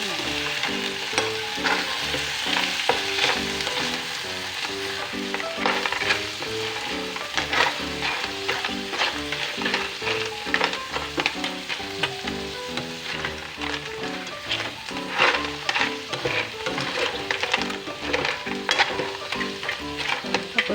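Fresh clams tipped into a hot pan of garlic and ginger, frying with a loud, dense sizzle and crackle that runs steadily throughout, with scattered clicks of shells shifting against the pan.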